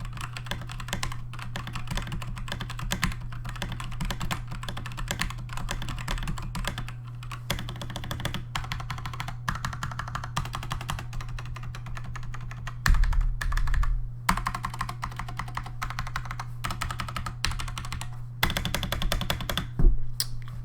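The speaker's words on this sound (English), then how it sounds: "But I'll do a quick typing test with some will have O-rings" Steady rapid typing on a Corsair K55 keyboard, some keys fitted with O-rings, clicky keystrokes in continuous bursts with brief pauses, close up, over a constant low electrical hum.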